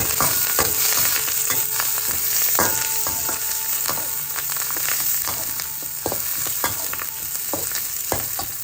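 Curry leaves frying in hot oil for a Singapore-style egg and cabbage stir-fry, a dense continuous sizzle with crackling pops and occasional stirring clinks, loud and close, no talk.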